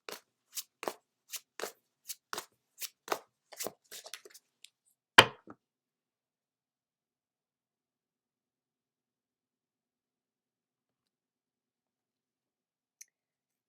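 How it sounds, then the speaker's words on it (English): Light Seer Tarot cards being shuffled in a quick run of crisp riffling clicks for about four seconds, ending in one sharp snap as a card is pulled, followed by near silence. "First, we'll be pulling a card from the Light Seer Tarot."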